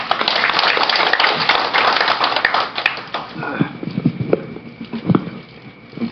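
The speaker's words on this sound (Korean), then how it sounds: "박수로 맞이해 주시죠" An audience at a Korean maritime policy forum claps to welcome the next presenter, a dense burst of applause that fades into scattered claps while a voice begins speaking.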